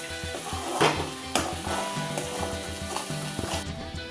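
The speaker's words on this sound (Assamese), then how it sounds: "এয়া মই আকৌ এবাৰ লৰাই দিছোঁ।" Muri ghonto being stirred in a pan on a gas stove, with a spoon scraping and clinking against the pan in irregular strokes over a steady sizzle of frying, close and fairly loud.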